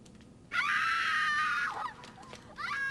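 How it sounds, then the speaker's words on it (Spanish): Screaming used as a sound effect, a loud sustained high-pitched shriek of about a second followed by a shorter wavering cry and another scream starting near the end. "Sí, ponga gritos. Adelante, efecto de gritos."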